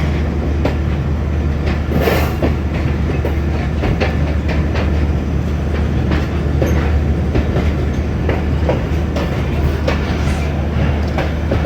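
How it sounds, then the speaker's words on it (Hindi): The 128 Down Mehar Express pulls away from Gurmani railway station running an hour late. Wheels clatter steadily in a clickety-clack rhythm with a constant low rumble, loud and close throughout. "तो गुरमानी रेलवे स्टेशन से डिपार्ट कर रही है 128 डाउन मेहर एक्सप्रेस, 1 घंटा डिले के साथ"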